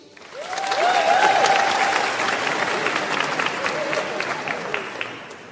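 A graduation ceremony crowd breaks into loud, sustained clapping that swells quickly and stays full. A few whoops and cheering voices rise through the applause.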